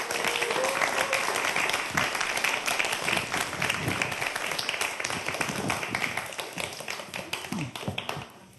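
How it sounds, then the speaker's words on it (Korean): An audience at a science lecture claps to welcome a professor to the stage. The clapping starts dense and near, then thins into scattered claps, with faint talk toward the end. "박수로 맞이하시기 바랍니다."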